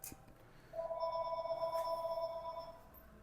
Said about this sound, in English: The phone keeps ringing and it's driving me insane.